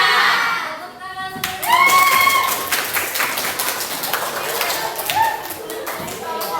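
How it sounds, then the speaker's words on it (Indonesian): Classroom applause from a group of students, a burst of clapping that builds after a short pause and continues steadily with scattered taps and light crowd noise. "Tepuk tangan"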